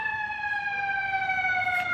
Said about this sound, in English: Yes, it's an ambulance.